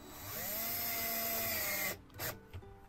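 A power tool drives screws into wood added to the bottom of a cabinet, with a steady whirring motor hum that stops abruptly, followed by a couple of short bursts.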